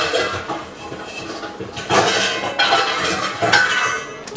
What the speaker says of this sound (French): On est rendu à mélanger les ingrédients du tartare.